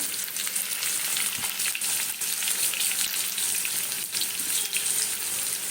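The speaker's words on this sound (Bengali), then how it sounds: "ভাজব ভাজার সময় অল্প নুন দেব" Steady sizzling and crackling of mixed vegetables frying in a pan with salt and turmeric, continuous and fairly loud throughout, with occasional faint clinks and no talking.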